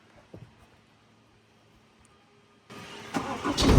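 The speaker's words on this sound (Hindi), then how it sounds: "तुमको इसका नोट एग्जॉस्ट का नोट अभी सुना देता हूँ" A car's engine cranks and fires up after a near-silent pause, then settles into a loud, rumbling exhaust note close by that swells toward the end.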